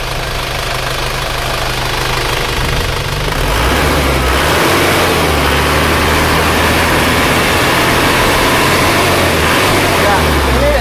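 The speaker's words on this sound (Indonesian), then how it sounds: "Coba kita gas." Isuzu Panther diesel engine being revved, a dense close clattering roar that builds in level partway through and holds steady, with a person talking underneath.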